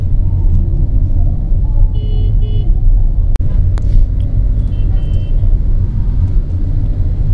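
Road traffic crawling in a jam on a rainy day on the 300 Feet road, a loud constant low rumble of nearby engines with a few brief horn honks and a sharp knock partway through.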